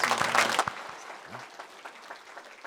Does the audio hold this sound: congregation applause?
yes